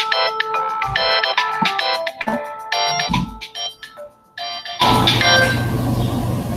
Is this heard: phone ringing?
yes